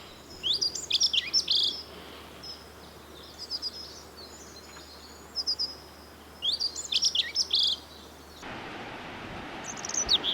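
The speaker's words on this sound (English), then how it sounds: "Here's a dunnock." A dunnock sings on Lundy in the Bristol Channel, with short bursts of high, thin warbling phrases repeated at intervals, fairly close and clear over a quiet outdoor background.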